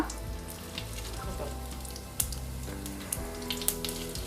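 Cumin seeds sizzle in hot oil as tempering for a spicy Andhra-style guava chutney, a close, steady frying hiss with a few sharp pops and crackles, no talking.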